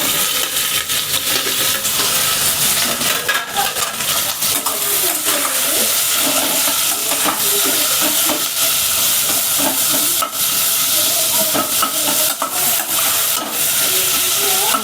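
Onion frying in oil with cardamom, star anise, cloves, pepper and cumin, a loud continuous sizzle and hiss filling the whole stretch, with occasional clinks and scraping of stirring in the pan.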